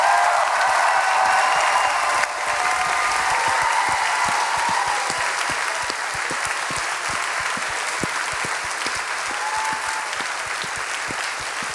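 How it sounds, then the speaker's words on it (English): Sustained, dense applause from a concert audience honouring the orchestra's conductor, steady and fairly loud throughout with a slight dip early on, no voices standing out. "Une bonne main d'applaudissements"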